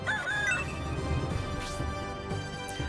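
Chicken clucking in the video game Shining Force 3, short squawky fowl calls over steady game music with a couple of brief rising swoosh effects.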